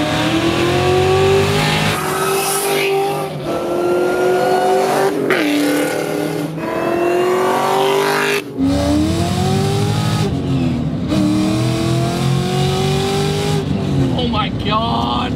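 A stock 2003 Ford Mustang Cobra Terminator with factory wheels revs hard in repeated rising and falling sweeps, loud and close, with people talking and exclaiming over the engine.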